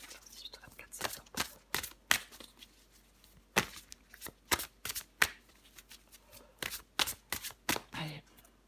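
Tarot cards are shuffled by hand in a series of quick papery riffles and soft slaps, close and fairly quiet, with irregular rhythm and pauses between bursts.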